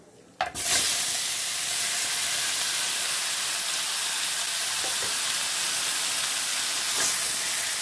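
Marinated meat dropped into hot oil tempered with cardamom, cinnamon and cloves erupts in a sudden loud sizzle, then settles into a steady, close frying hiss with a couple of faint clinks.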